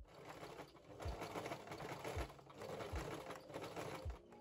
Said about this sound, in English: I'm just gonna seam them together with a zigzag stitch